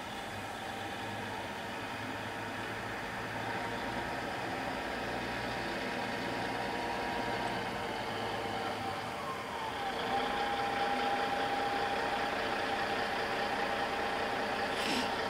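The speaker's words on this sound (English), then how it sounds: "They're doing semi-truck training right by where I'm at" Semi-truck engines idle nearby at a truck driver training site, a steady low diesel rumble holding level throughout, with a faint rising whine near the end.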